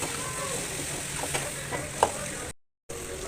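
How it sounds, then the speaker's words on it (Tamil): Onion and tomato with turmeric being stirred and sautéed in a pan, a steady soft sizzle under faint talk, with a brief scrape of the spoon and a short cut to silence near the end. "எல்லாத்தையும் நல்லா சேர்த்து வதக்கிக்கிறோம்"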